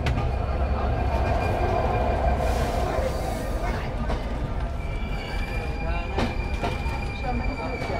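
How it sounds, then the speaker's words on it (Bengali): Drutojan Express passenger train halting at Pirganj station in Bangladesh, with a steady, loud rumble of rail cars and faint wheel squeals sustained throughout, plus occasional background voices. "এখানে ট্রেন হল্ট করবে সামান্য কিছু সময়ের জন্য, যাত্রী উঠবে, নামবে এবং আবার ট্রেন নিজ গন্তব্যে যাত্রা শুরু করবে।"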